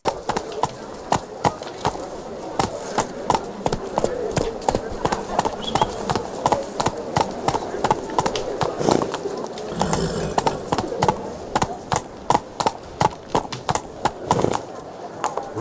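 Roach, a horse in The Witcher 3, galloping with rapid rhythmic clip-clop hoofbeats at close range, while a person talks over them.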